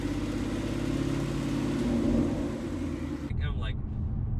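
A Ford car's engine idles steadily with a dense, even rumble and light ticking, close and continuous, before the sound drops abruptly near the end.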